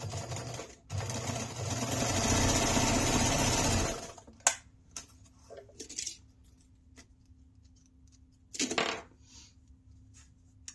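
A sewing machine stitches down the folded sides of fabric for a water bottle sling, running in one loud, steady burst of about three seconds, followed by a few short clicks and taps and one brief final run.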